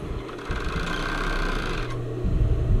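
Sewing machine stitching swimwear fabric, a steady close mechanical whir with rapid needle rhythm that shifts speed briefly near the end, running alone without speech.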